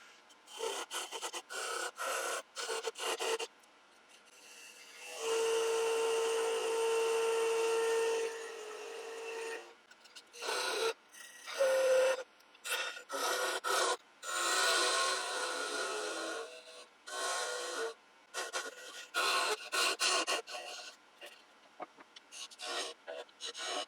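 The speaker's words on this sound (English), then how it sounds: "using a little 10mm parting tool" A steady, rasping cut of a 10mm lathe parting tool into a spinning wooden mallet head, running continuously for several seconds amid intermittent scraping and workshop noise.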